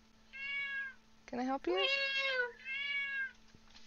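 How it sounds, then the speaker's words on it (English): A cat meows several times nearby, drawn-out calls with a short sharp pair in the middle, while a person speaks briefly between them over a faint steady hum. "Don't just sit there and meow at me."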